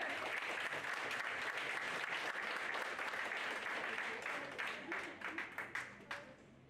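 An audience at a pony club driving prize ceremony applauds in a sustained wash of clapping that thins into a few separate claps as it fades, with a voice faintly underneath.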